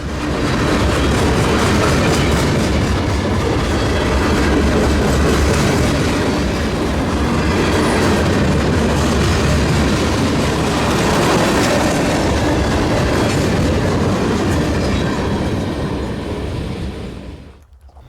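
A freight train with trailing EMD SD60 and IC SD40-3 locomotives rumbles past close by. Its wheels clatter and roar loudly and steadily for a long stretch before fading at the end.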